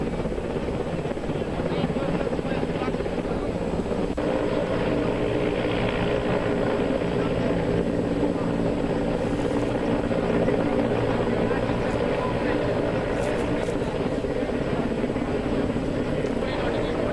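An Indian Air Force rescue helicopter flies over the flooded Tawi river in Jammu, its steady, loud rotor and engine drone continuing throughout, with a voice talking over it.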